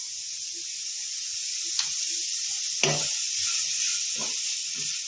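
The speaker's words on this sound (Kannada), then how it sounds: "ನೋಡಿ ನಾನು ಎರಡು ಕ್ಯಾರೆಟ್ ತುರಿದು ಇಟ್ಕೊಂಡಿದ್ದೀನಿ, ಅದು ಹಾಕ್ತಾ ಇದ್ದೀನಿ. ಎಲ್ಲ ಒಟ್ಟಿಗೆ ಫ್ರೈ ಆಗಲಿ." Grated carrots fry in a pan for rava bun dosa, giving a steady bright hiss with faint crackles and a few soft clinks close by.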